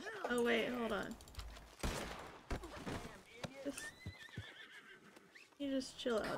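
Horses whinny loudly in a Red Dead Online wagon robbery, with bursts of clip-clop and gunfire between the calls, all under excited chatter from players.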